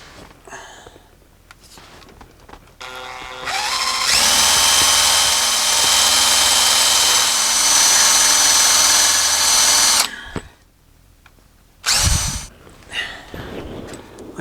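A power drill grinds loudly and steadily for about six seconds through a hard metal brake bolt on a 1973 Ford F100, whining at high pitch, with quieter tool handling and short bursts of noise before and after.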